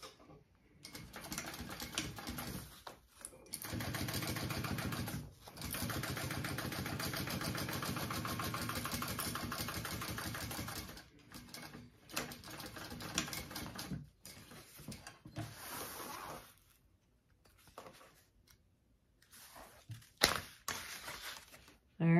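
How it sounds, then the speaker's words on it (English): A sewing machine top stitches a pocket on a fabric backpack in close, rapid bursts of mechanical clatter, running for several seconds at a time between pauses and short stop-start stitching, with faint quiet gaps. "now I'm going to top stitch that one"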